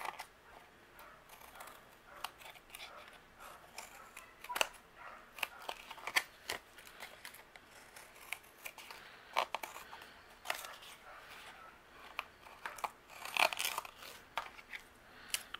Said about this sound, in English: We're going to trim off the excess here.